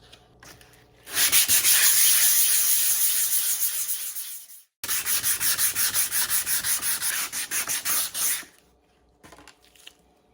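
Brisk 400-grit sandpaper rubbing dried gesso on a hard surface, one long continuous stretch, a brief pause, then a run of quick rhythmic back-and-forth strokes, close up.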